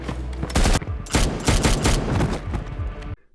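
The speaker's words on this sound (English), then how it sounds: "But they walk right into a machine gunner who pins them down until Connor takes him out with a grenade." A machine gunner pins down a team in a military action film scene: loud, sustained bursts of automatic fire crack in close succession, with short gaps between volleys, before cutting off sharply.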